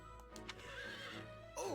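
A horse in the Fire Emblem Warriors video game gives a single bright neigh near the end, rising and then falling, heard over a quiet, steady game background.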